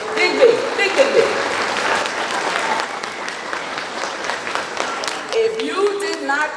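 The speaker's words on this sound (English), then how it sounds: "give her a big round of applause" Audience at a Jamaica 60 Diamond Jubilee gala applauds the Consul General of Jamaica in New York, a full, sustained clapping crowd with some voices and a few short tonal sounds mixed in.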